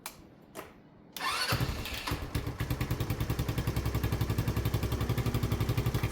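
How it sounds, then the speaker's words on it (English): A stone-cold motorcycle starts: a couple of brief cranking sounds, then the engine catches after about a second and settles into a loud, close, steady rhythmic idle with even mechanical pulses, heard alone. "How easily does it fire up? Bike's stone cold."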